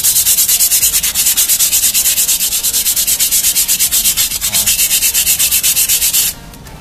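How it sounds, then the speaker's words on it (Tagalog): Rapid, steady back-and-forth strokes of sandpaper on a Toyota Innova brake disc, loud and close, a rhythmic scratchy rasp repeating throughout before stopping abruptly near the end. "Konting liha."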